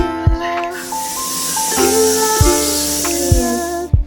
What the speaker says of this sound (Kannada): ಒಂದು 3 ವಿಷಲ್ ಕೂಗ್ಸೋಣ.